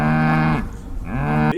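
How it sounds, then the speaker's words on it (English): A bull lets out one loud, close moo. The low droning tone dips in the middle and then swells again before it stops. "This animal is a bull."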